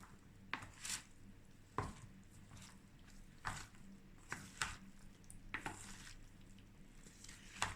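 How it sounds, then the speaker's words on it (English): Potato salad with mayonnaise and dried parsley being stirred in a bowl, giving soft, irregular scraping and tapping strokes with quiet pauses, faint and close. "And stir."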